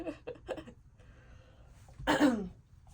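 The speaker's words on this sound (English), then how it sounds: "starting to cough because I've been talking for a while" A single harsh cough bursts out near the end, following a few soft throaty sounds and breaths in an otherwise quiet room.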